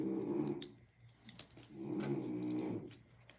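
A dog snores twice, slow and deep, rising and falling close by, a rough rumbling breath with a quiet pause between them.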